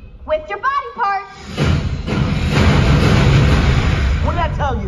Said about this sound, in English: Minimal no explosions.